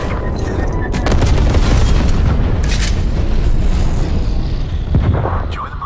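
A napalm strike in Call of Duty: Black Ops Cold War on the Nuketown map erupts in a loud, sustained roaring blast with crackling bursts and rumbling booms that fill several seconds.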